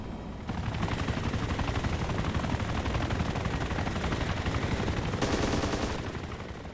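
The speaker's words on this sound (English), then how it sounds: "the somewhat underwhelming sounds of the guns" A British helicopter's nose gun firing in the military game ArmA 2: Operation Arrowhead, heard as a sustained rapid burst of shots over a steady rotor drone. The fire breaks off briefly near the end, then resumes.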